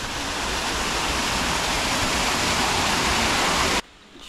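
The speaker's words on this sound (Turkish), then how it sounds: "Küçük bir şelalenin olduğu yerden ilerliyorum." Small waterfall on a hiking trail in Bali, a steady, close broadband rush of falling water that runs unbroken for nearly four seconds, then cuts off sharply to near-silence.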